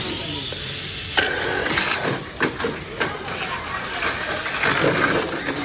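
The electric motor of a BMAX RC car fitted with a Power Dash motor runs on a test, giving a rough whirring hiss with surging bursts and clicks. It is close and fairly loud throughout.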